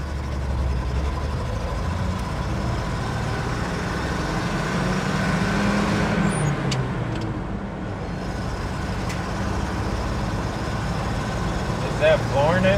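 A vehicle engine at wide open throttle, roaring steadily and loudly for the whole stretch with dense broadband road and engine noise, people talking faintly underneath.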